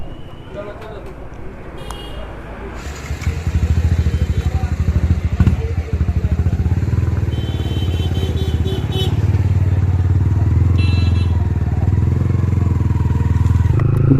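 A V3 motorcycle rides toward a fuel pump, its engine a loud, close, steady drone that swells after a rough idling start and holds a continuous throaty rumble with occasional clatters.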